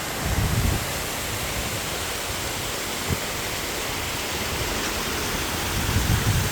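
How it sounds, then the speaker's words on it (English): Big waterfall in quarry gardens pours in a steady, broad rushing hiss that fills the whole stretch, with small thuds of water now and then. "This is the biggest waterfall in the gardens."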